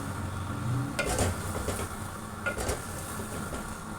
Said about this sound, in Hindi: तेज़ आंच में इस मसाले के साथ ही इसको पकाना है